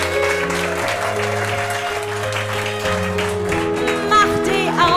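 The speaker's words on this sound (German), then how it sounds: "Natürlich noch mal einen Riesenapplaus für den Daniel, unseren Cellisten." Applause at a benefit concert for the cellist Daniel and for the audience itself, a steady patter of many hands mixed with a sustained low instrumental drone and tones throughout.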